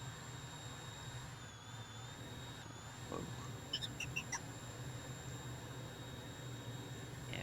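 A drone in a survival video game hums steadily overhead with a constant whining engine tone and wind-like hiss above ruined military barracks, faint and even, with a brief exclaimed voice and a few soft clicks.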